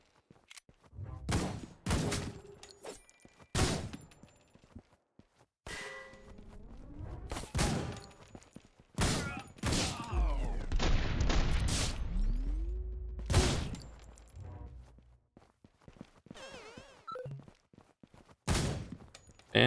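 Gunfire in the action video game Suit for Hire: repeated sharp shots and short bursts scattered across the stretch, some louder and closer, with whooshes and impact sounds between them.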